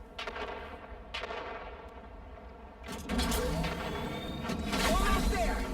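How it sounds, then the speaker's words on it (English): Gunfire and grenade blasts in a video game, a steady run of rapid shots that swells into a louder, denser barrage with booming impacts, voices shouting over it. "3, 2, grenades out!"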